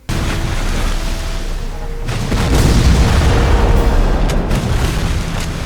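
Loud rumbling booms and blasts from cannon fire in the PC video game Civil War Secret Missions, a sustained barrage of explosions that swells louder midway, with sharp bursts cutting through.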